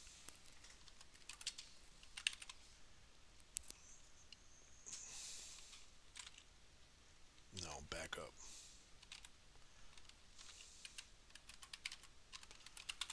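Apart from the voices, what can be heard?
typing on a computer keyboard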